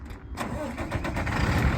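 Paccar PX6 6.7-liter 300 hp turbo diesel in a 2009 Peterbilt 335 crane truck, idling with a low rumbling chug close by after starting up.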